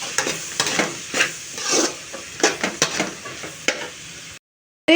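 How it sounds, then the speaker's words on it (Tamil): Beans, carrot, soybeans and capsicum sauté with onion and egg for fried rice, heard as a steady sizzle under rhythmic scraping stirs of a spoon in the pan. It ends in a brief silence. "அதை எல்லாத்தையும் இதில் போட்டு நல்லா வதக்கிக்கலாம்."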